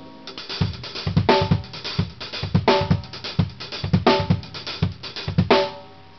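Drum kit plays a fast triplet fill, with rhythmic bursts of snare and toms punctuated by booming kick drum hits and hi-hat. Close and loud, played alone, ending as the last hit fades.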